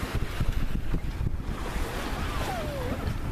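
Wind gusts and rushing waves surround a sailboat running under its jib in a freshening breeze, with loud buffeting against the microphone and a constant wash of water alongside.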